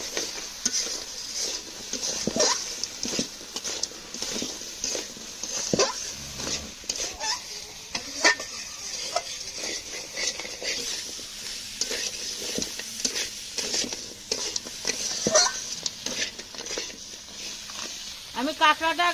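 Crab curry being stir-fried with turmeric and spices in a pan in a village kitchen, with steady sizzling, a spatula scraping and stirring in repeated strokes, and a voice speaking over the cooking throughout.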